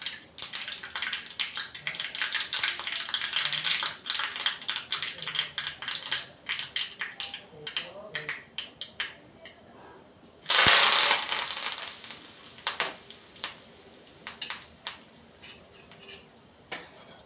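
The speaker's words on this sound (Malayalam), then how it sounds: "കടുക് പൊട്ടി വരുന്നുണ്ട്" Mustard seeds pop and crackle in hot oil with rapid, irregular sharp snaps, interrupted midway by a sudden loud sizzling hiss.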